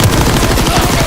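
Dense, loud gunfire in a Call of Duty WW2 team deathmatch, a rapid burst of overlapping shots with no pause across the whole moment.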